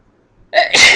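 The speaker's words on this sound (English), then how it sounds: "I have to sneeze" A single loud, close sneeze from a person, a brief sharp burst after a moment of near silence and a faint inhale.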